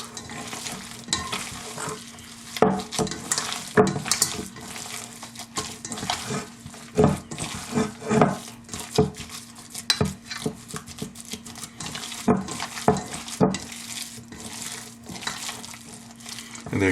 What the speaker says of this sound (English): you've got the beef pretty much mixed up with the venison